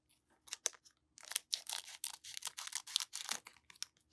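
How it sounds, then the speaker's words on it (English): Close scissors snip and crunch through the foil of a 2003-04 Topps Bazooka basketball card pack. After one brief snip comes a long run of rapid, crinkly cuts. "let's get the scissors out for this one."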